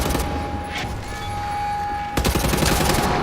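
Rapid pistol fire from dual-wielded modified Lugers in the shooter game Wolfenstein: The New Order, with a dense burst of shots at the start and a loud volley of quick repeated cracks in the last second, over a steady tone.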